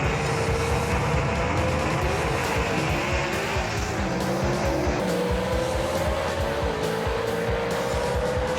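Two drag race cars, a Southeast Gassers Association Mustang and a Renegade, run side by side at Knoxville Dragway, their engines a loud, sustained roar that holds steady across the pass with rising pitch and tire noise.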